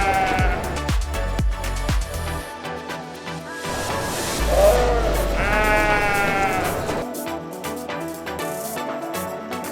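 Sheep bleating at a livestock auction, several loud wavering bleats close by, one drawn out and quavering, over a busy background of shuffling and clatter.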